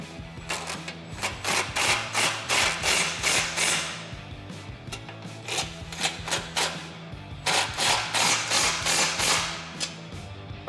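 Ratcheting wrench working the nut on a Smittybilt Gen2 X2O 10,000 lb winch mounting bolt, with quick repeated clicking strokes in several runs and brief pauses, close and steady with no talk.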